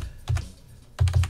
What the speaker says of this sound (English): I'm going to try typing in my chat window and see if that does anything.